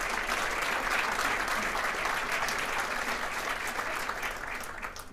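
A large audience claps for a congressman at a regional political address, a thick continuous wash of applause holding strong and then easing slightly toward the end.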